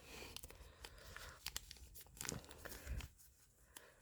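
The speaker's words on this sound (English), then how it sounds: "make sure it's even when you fold it, and then you fold it down" Origami paper being folded and creased by hand, a series of quiet crinkles, crisp rustles and brief tearing-like scrapes scattered unevenly, close and soft with no talking.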